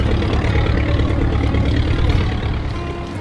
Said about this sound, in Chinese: 快艇